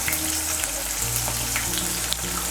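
Ginger paste and chopped tomato fry in a pan, a steady close sizzle with bits of crackle running throughout, alongside a low tonal hum.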